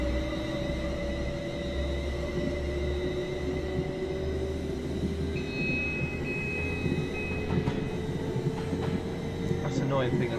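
A Class 350 electric multiple unit runs in Train Simulator 2017, giving a steady rolling rumble with rising motor whine and occasional squeals, while a person talks over it throughout.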